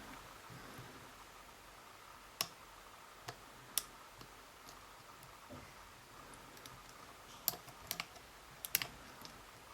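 Sharp little clicks from the pins of a brass challenge lock being picked, scattered and faint over a steady hiss, with a few clustered near the end.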